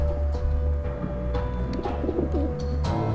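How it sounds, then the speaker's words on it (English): A pigeon coos softly and repeatedly over a low ambient hum in The Talos Principle, with faint chirps and clicks scattered around it. "I've heard that pigeon sound before."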